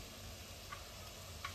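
Mutton coated in black masala sautéing in a pan, a quiet, continuous sizzle with a couple of soft ticks from the spoon.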